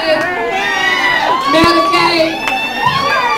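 Comedy show audience cheering and whooping loudly, a dense continuous crowd roar with shouts rising above it throughout.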